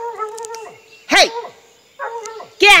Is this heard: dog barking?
yes